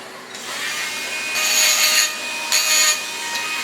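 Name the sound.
Dremel rotary tool wheel cleaning up gluing surface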